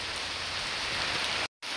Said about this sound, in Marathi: कारण की पाऊस येतोय